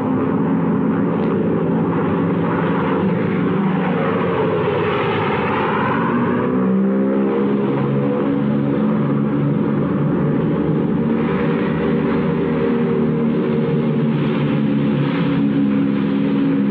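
Bomber aircraft engines drone loudly and continuously as the planes fly over, a heavy layered roar that swells and beats in pitch midway, on an old wartime film soundtrack.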